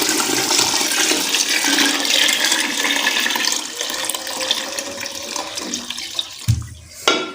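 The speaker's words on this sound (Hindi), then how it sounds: "ये मैंने पानी का डाल दिए 2 लीटर।" Two liters of water gush into a cooking pot of lobia, a loud continuous pour that tapers off and ends with a few final splashes.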